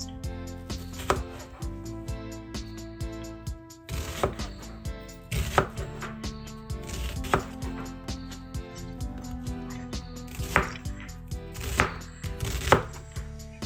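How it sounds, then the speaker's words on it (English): A knife chops half a red onion into strips on a cutting board, with rhythmic, close, crisp strokes repeating steadily over a soft tonal background. "Now cut the red onion."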